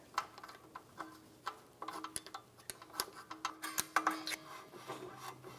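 A rear brake drum on a 2010-2023 Toyota 4Runner scraping lightly as the adjuster is turned, a run of soft rubbing and ticking contacts repeating irregularly, close and fairly quiet, with no talking.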